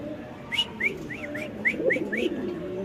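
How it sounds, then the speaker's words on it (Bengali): Pigeons in a pigeon seller's loft, two birds of the Turinga and Atanjal types, give a run of about seven soft rising coos in quick succession, close up over a faint background hum. "সো দর্শক এখানে আছে দুই পিস কবুতর"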